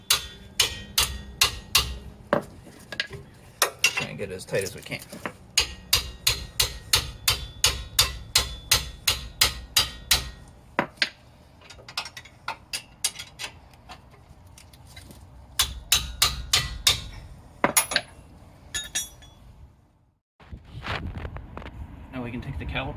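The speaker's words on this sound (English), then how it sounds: "And then just use a heavy hammer." Sharp metallic clanks ring out in fast runs as a heavy hammer strikes a wrench to tighten a brake bolt on a Jeep Wrangler JK, close and loud, with someone speaking briefly between bursts.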